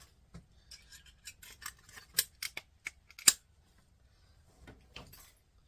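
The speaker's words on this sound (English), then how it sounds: "Just get a little bit we can grab onto it with the snips. Pull it out, like so." Snips grip and tug a plastic part out of a Kenwood stereo during a teardown, giving faint scattered clicks, scrapes and small snaps at close range.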